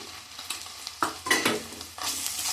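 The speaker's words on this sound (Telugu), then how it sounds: "ఈ పచ్చివాసన పోయే వరకు ఫ్రై చేసుకోవాలి" Sliced onion, green chilli and ginger-garlic paste fry in a pan for coconut rice, giving a bright sizzle that swells as the spoon stirs in two or three strokes, close and unvoiced.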